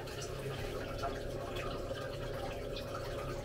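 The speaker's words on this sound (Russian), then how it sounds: "решил пополнить зимние запасы воды" Water runs steadily from hoses into winter storage containers at a village house, giving a continuous faint trickling and filling sound with soft drips.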